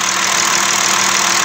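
A 2016 Audi A6 C7 with a 3.0 TDI diesel engine, just repaired for a coolant leak between the cylinder heads, drones loudly and evenly on a test drive, a steady close-up engine rumble with no voices.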